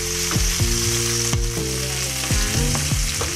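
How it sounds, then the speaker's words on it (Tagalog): Onion sautés loudly in a pan for chicken kaldereta, with constant sizzling and repeated ringing scrapes of a utensil stirring against the metal at an uneven rhythm. There is no talk. "Gisa na natin guys ang sibuyas."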